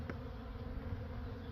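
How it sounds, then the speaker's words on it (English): Honeybees buzzing inside a hive during oxalic acid vapor treatment, a steady close droning hum that continues without a break. "There's like a bee in here."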